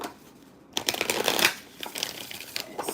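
Tarot cards are shuffled briskly and close up, a quick riffling flutter after a brief quiet start, repeating in short bursts.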